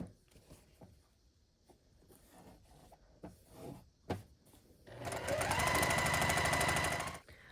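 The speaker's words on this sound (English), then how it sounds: "I'm just going to stack that together, right sides together, and sew along the edge" Domestic sewing machine stitching along the edge of stacked quilt pieces, quiet handling taps first, then a steady loud motor whir for about two seconds.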